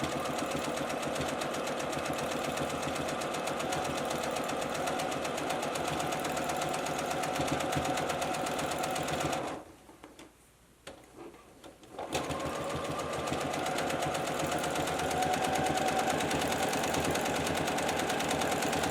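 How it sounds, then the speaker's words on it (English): A sewing machine runs steadily while free-motion quilting a letter L, a fast continuous stitching drone that stops briefly for a couple of seconds midway before resuming at the same pace. "I'm just going to go in and quilt our letter L"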